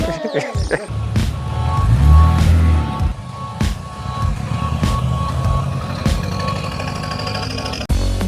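An abandoned Toyota Supra pulls away to start a long road trip, its engine giving a steady, loud, rough rumble with clattering mechanical noise throughout.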